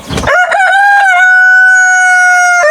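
A Buff Orpington rooster gives one loud, close crow, opening with brief clucks and then holding a long, steady, ringing note before cutting off.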